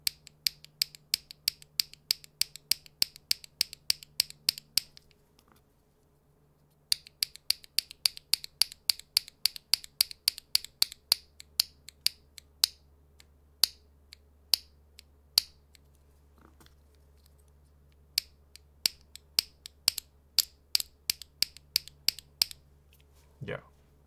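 Clicky keystrokes from a mechanical keyboard fitted with Creamsicle switches, typed in steady rapid bursts with a short pause near the five-second mark, close and crisp over a faint low hum.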